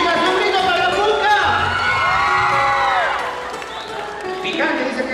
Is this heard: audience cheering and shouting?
yes